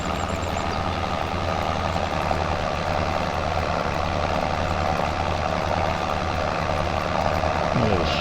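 A tractor pulling a cultivator in Farming Simulator 25 drones with a steady, loud, low engine hum that holds an even pitch throughout, close and unbroken.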